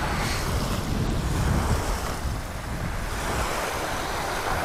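Steady wind rushing over the microphone with lake waves lapping and washing against a shore, a continuous outdoor roar with no voices.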